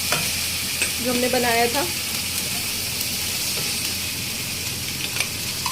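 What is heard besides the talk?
masala with ginger garlic paste frying and being stirred in oil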